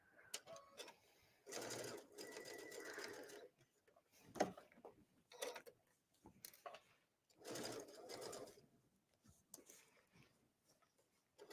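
A sewing machine topstitching jeans runs in several short bursts of whirring stitching separated by pauses, with small clicks between runs; no talking is heard.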